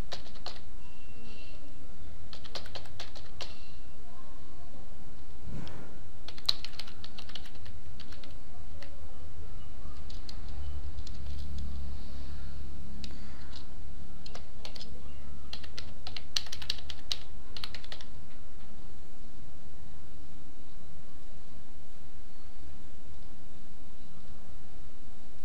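Fingers type steadily on a computer keyboard while entering a password to set up a blog, close and continuous clicking with bursts of keystrokes over a low background hiss.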